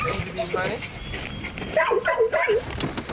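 Sled dogs in harness on a line, whining and yipping in repeated high-pitched bursts that cluster near the end, with a narrator talking over them.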